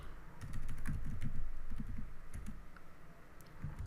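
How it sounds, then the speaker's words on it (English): Quick bursts of keystrokes on a computer keyboard while entering code, irregular clattery taps clustered in short runs, close and fairly quiet, with no talking. "So I'm going to type program"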